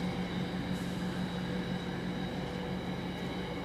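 A train rumbles steadily at Trimley railway station on the Felixstowe line, a continuous low drone with a faint high whine, heard alone and fairly quiet.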